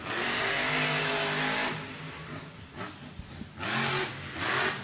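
A monster truck's engine roars loudly at a Monster Jam event in Orlando, holding a sustained rev before dropping off, then surging again in bursts as the throttle is worked.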